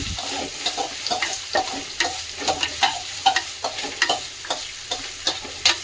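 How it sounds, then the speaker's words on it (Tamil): Sliced onions sauté in a hot pan, with a steady sizzle and repeated close, rhythmic scrapes and clinks as a spatula stirs them, and no voices. "வெங்காயத்தை போட்டு நல்லா வதக்கி விட்டுடலாம்."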